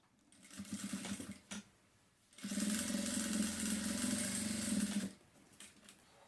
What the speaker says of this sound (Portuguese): Agora a gente já sobe com uma costurinha de segurança aqui para fixar ele no restante da peça.